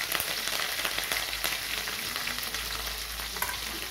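Steady crackling sizzle of fennel seeds, crushed ginger-garlic, green chilli and curry leaves frying in hot oil for crab thokku, continuous and fairly soft, with small pops scattered throughout.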